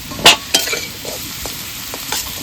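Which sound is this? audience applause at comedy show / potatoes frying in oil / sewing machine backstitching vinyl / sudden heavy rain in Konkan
potatoes frying in oil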